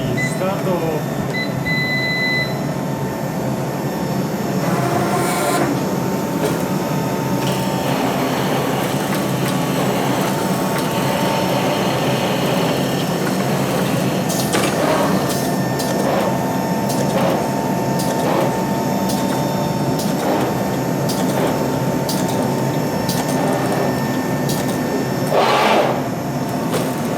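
An automatic fabric cutting machine runs continuously with a loud, steady mechanical hum and whir, dotted with occasional sharp clicks and knocks from its cutting head, while voices talk over it at times.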